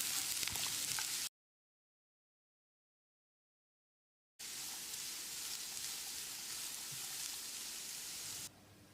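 About 300 grams of finely chopped carrots sautéing in a pan over medium heat, a steady close sizzle and crackle that cuts out briefly and then returns evenly.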